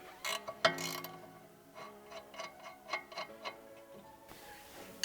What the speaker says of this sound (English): So I'm gonna start out by loosening this bolt, but we're not gonna remove it fully.